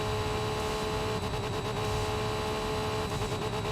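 Mazda Miata engine in the racing game Enthusia Professional Racing, revving hard toward a 9,000 RPM redline at high speed on a long straight; a steady, loud, dense drone throughout with no talking.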